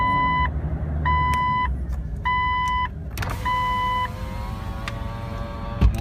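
A lifted Jeep Cherokee XJ engine starts again. Repeated electronic warning chimes beep in short bursts, then the engine catches into a steady running rumble while a few more chimes sound over it.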